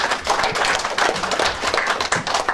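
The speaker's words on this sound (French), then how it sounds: "Sous vos applaudissements, s'il vous plaît" Audience applause at a Gabonese news awards ceremony in Paris, a dense steady patter of many hands clapping close by throughout, with no talk over it.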